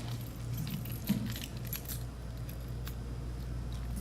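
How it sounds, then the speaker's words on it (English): Audience members pull keys from their pockets at a home-buying talk, producing a faint, steady metallic jingle and clinking spread through the room, with one brief sharper clink near the middle. "Can everyone take out keys out of their pocket for me?"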